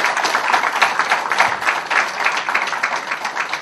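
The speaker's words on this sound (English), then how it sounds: "A long round of applause." A crowd at a book launch for the novel Wheels of Wish breaks into steady, dense applause, many hands clapping together in a sustained, fairly loud round that carries through without pause.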